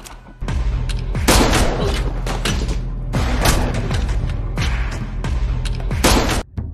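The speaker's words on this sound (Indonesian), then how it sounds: "Bos Baik malah mengambil shotgun dan langsung menembak anak buah Kyungpil" Shotgun blasts aimed at gang members in a film action scene, several loud booming shots in rapid bursts with mechanical clatter and echoing tails, dense and continuous.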